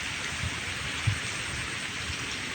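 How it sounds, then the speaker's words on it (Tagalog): Rain falls steadily on a dragon fruit farm, an even hiss of drops close by with a faint low rumble underneath. "Yan po umuulan."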